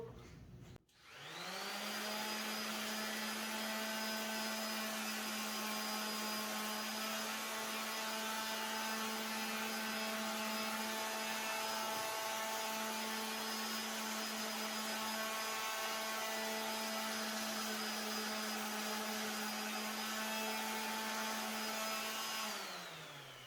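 An electric sander running on wood with 60 grit sandpaper gives a steady, loud, motor-like whine that starts abruptly, holds for about twenty seconds, then cuts off.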